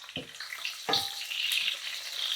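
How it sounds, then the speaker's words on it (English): Diced salted fish fries with softened onions in a pan, giving a bright, steady sizzle that flares after two soft knocks as the pieces go in. It is close and there is no talking. "I have some diced salted fish, which is Koby. I'm going to fry them in here"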